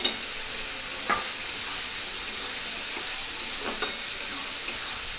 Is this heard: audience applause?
no